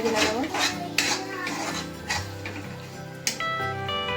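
Spinach curry stirred with a metal spoon in a pot, repeated clanks and scrapes against the sides in an irregular rhythm, close and fairly loud, with ringing metallic tones between strikes.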